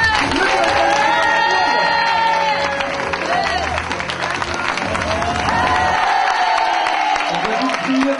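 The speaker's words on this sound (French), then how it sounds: "Je vous demande d'applaudir et d'accueillir monsieur Frédéric Jouve." A studio audience on a radio show claps and cheers to welcome a guest, a dense, continuous wall of applause with whoops and raised voices that holds steady and loud before easing slightly near the end.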